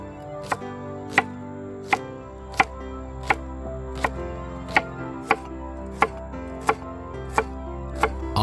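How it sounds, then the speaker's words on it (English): A knife thinly slices a shallot on a cutting board, about a dozen evenly spaced sharp taps, close and clear with no talking. "we'll start by slicing our shallot nice and thin."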